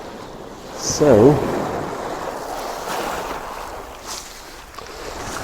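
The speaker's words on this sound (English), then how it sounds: "So I've got some nice waves coming in here." Waves wash in at a seaside shore, a broad steady surf roar with wind buffeting, swelling briefly louder near the start; someone says a word early on.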